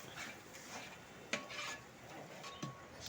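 Beef pickle being stirred in a pan, with soft scraping and rasping strokes of a spoon against the metal and two brief sharper knocks, faint and close with a light sizzle underneath.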